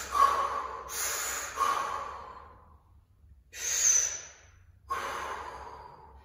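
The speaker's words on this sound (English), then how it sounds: "We're going to breathe." Breath work during a morning yoga session, drawing air in and out through the mouth: a handful of close, audible breaths alone, each a breathy rush separated by short quiet gaps.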